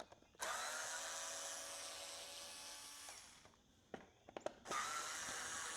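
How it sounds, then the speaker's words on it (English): A power screwdriver runs steadily for about three seconds backing out Phillips head screws from a 2016 Honda F6B Goldwing blinker, followed by a few brief clicks and a second short burst of driving. "We're gonna remove those screws one at a time"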